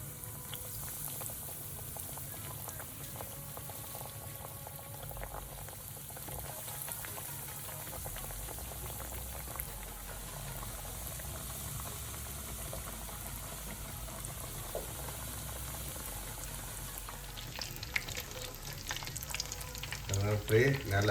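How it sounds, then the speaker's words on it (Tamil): Mutton rolls, Jaffna style, deep-frying in boiling oil, a continuous soft bubbling sizzle heard up close with faint handling sounds and a brief clatter near the end. "ரோலை கொஞ்சம் கொஞ்சமாக சுடத்து வாங்குவோம்"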